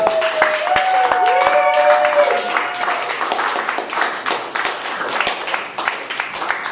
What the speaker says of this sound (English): That was a fucking clap for me, come on.